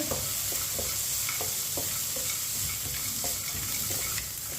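A spoon stirs a semolina laddu mixture roasting in ghee with chopped pistachios and almonds over low heat. It gives a soft, continuous sizzle with light, irregular scraping taps. Nobody speaks.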